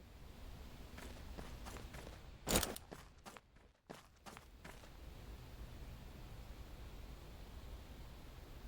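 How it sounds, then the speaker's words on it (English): Footsteps in the XERA video game, a run of soft, irregular steps over a steady background hiss, with one louder thump near the middle, faint and with no talk. "I thought I heard footsteps"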